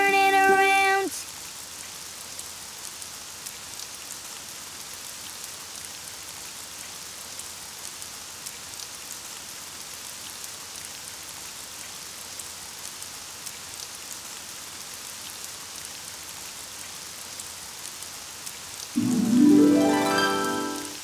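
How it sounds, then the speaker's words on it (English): Steady soft patter of rain falling continuously, with a short melodic tone at the start and a voice-like sound near the end. "Oh, it's raining outside."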